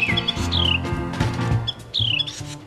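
A small songbird with a white eyebrow, cinnamon belly and slightly hooked beak sings, with repeated bright chirps and short descending whistles over a busy background of other sound.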